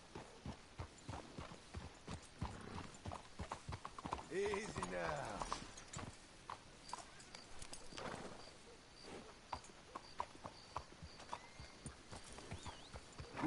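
Horse hooves clip-clop steadily with a brief whinny midway in the video game Red Dead Redemption 2, while someone speaks quietly over the movement.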